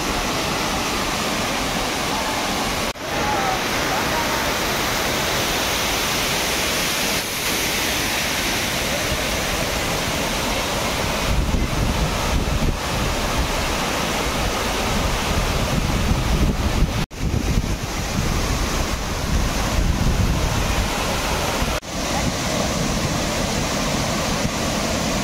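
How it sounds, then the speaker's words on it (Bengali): Rani Duduma waterfall in Koraput, Odisha, a broad, loud, continuous roar of falling water that stays steady throughout with brief gusty wind buffeting. "রানী দুদুমা ওয়াটারফলস, এই হলো রানী দুদুমা ওয়াটারফলস। দেখো এইভাবে জল ঝরে পড়ছে।"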